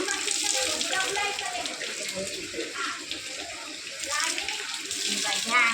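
A tap pours water steadily to fill a bath, a constant loud gush throughout, while voices, including a child's, talk over it.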